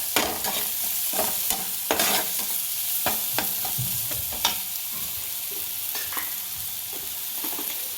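Spices and turmeric frying in a pan for a masala, stirred steadily with repeated scraping strokes over a constant loud sizzle, no voices.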